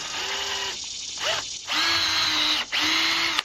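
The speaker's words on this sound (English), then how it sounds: "we'll go ahead and pre-drill some" A power drill pre-drills holes in porch rail lumber, whining steadily in three sustained runs with brief pauses and a short rev between them, loud and close.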